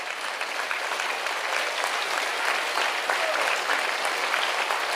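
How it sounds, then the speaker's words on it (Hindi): A large audience at a devotional gathering applauds in a steady, continuous wash of clapping that holds at an even level throughout, slightly distant. "ये तालियां ही संकल्प हैं।"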